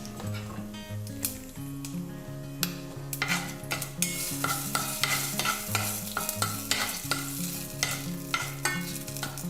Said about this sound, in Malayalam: അപ്പോൾ ഈ കടുകൊന്ന് പൊട്ടട്ടെ.